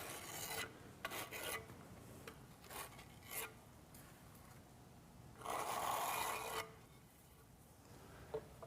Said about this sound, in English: Fill the back of each tile with thinset and strike off the excess.